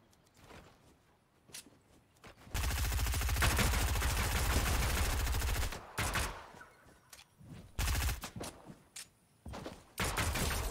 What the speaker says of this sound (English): Let me test out this new pistol on you